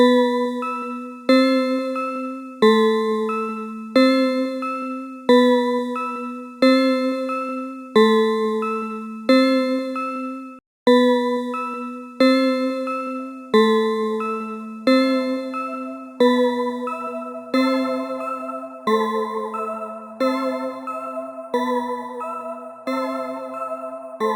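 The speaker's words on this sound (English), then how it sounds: "Here's another melody using our Wayback plugin again. This one's the Forgotten Bells." A Forgotten Bells melody from the Wayback plugin rings out as a steady sequence of clear, bell-like tones, each struck note decaying in a regular rhythm, with fuller chords layered in toward the end. No voices.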